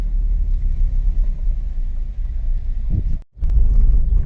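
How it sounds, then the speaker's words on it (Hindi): Maruti Swift (2021) driving a rough, unpaved mountain road in monsoon, cabin filled with a loud continuous low rumble and jolting, with a brief sharp dropout near the end before the rumble resumes. "तो ये थोड़ा सा कच्चा पक्का रास्ता है, कच्चा वाला ना, तो बहुत ज्यादा गाड़ी हिल रही है एकदम"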